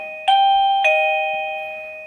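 A Govee wireless waterproof doorbell chime rings two clear, bright tones in quick succession, the second note sustaining and slowly fading, loud and close with nothing else heard.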